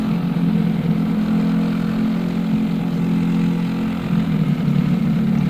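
An LO206 racing kart engine drones steadily and loudly throughout a race on track, a constant buzzing tone with no pauses.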